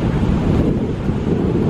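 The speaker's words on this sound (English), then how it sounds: "Really blustery." Strong gusty wind buffets the microphone on a coastal walking track beside a beach with big waves, a loud continuous roar of wind and surf with no pauses and no talk.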